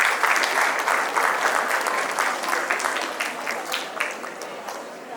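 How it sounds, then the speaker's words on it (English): An audience applauds at a school awards ceremony for the 2024 national debate and excellence awards, steady dense clapping from a crowd in a hall, loud and sustained throughout. "Let's give them a huge round of applause."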